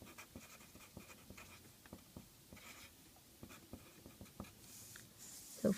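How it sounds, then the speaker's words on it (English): Pen writing numbers by hand on paper, a soft scratchy patter of short strokes and taps in a quiet room, close and faint, with no talking. "I'm just going to write that down here"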